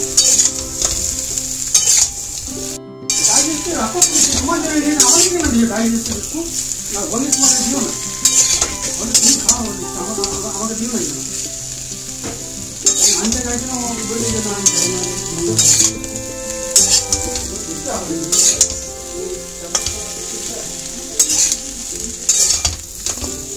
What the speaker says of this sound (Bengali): এই যে নাড়াচাড়া করছি এটা কিন্তু আমি একদমই লো ফ্লেমে নাড়াচাড়া করছি।